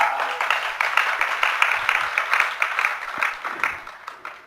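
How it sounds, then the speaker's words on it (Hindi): An audience applauds at a religious discourse, a dense crowd of hands clapping that peaks early, then gradually thins and fades away over several seconds. "क्यों, ताली तो बहुत देर के बाद बजा दिया।"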